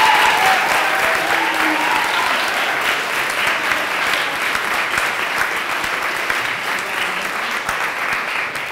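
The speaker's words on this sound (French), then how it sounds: "On va donc t'applaudir aussi." Sustained applause from an audience at a French regional cup final evening event, a dense steady wash of many hands clapping throughout at even loudness.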